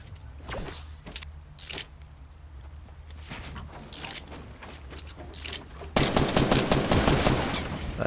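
Gunfire in the Fortnite battle royale video game: several short bursts and single shots over about eight seconds, with a louder, denser stretch of rapid firing near the end.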